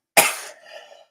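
A single sharp, close cough bursts out, then fades into a brief raspy tail.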